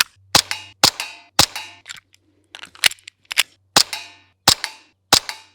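A tiny airsoft gun with a one-inch barrel fires about nine sharp, snappy shots, spaced roughly half a second apart, with a short pause and a few small clicks between the first and second groups.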